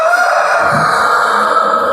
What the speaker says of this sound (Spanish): Sí, el gallo.